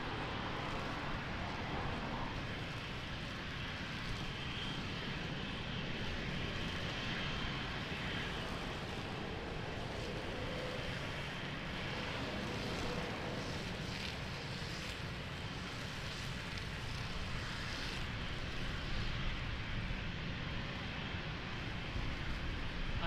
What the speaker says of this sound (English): Nice big boy 777 Latam.